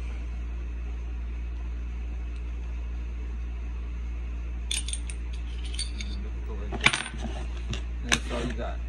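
Parts of a Taurus G2S pistol pulled apart during disassembly as the recoil spring and barrel come out, giving a few sharp metallic clicks and clinks close by after a quiet stretch, with a brief rattle.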